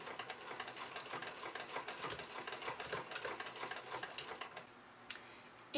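A vintage Singer 15 hand-crank sewing machine runs with a fast, even mechanical clatter of soft ticking stitches for about five seconds, close and fairly quiet, before slowing to a stop.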